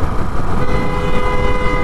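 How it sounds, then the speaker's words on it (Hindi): A loud truck-style horn fitted to a 2021 Bullet 350 motorcycle blares in one continuous honk, its tonal blast sustained and close over road noise while cruising. "सर ने तो हॉर्न लगाया ट्रक वाला शायद।"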